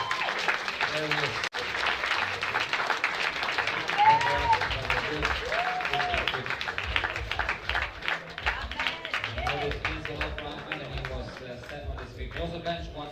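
Steady applause and clapping from the audience at an SBD UAE powerlifting meet, filling the hall for over ten seconds with a dense, even patter, with crowd voices and talk mixed in.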